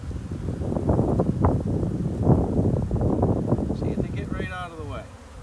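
Honeybees hum at an open hive during an inspection three days after a package install, a buzzy drone mixed with close gusts of breath and handling noise; a faint whistling sweep appears near the end.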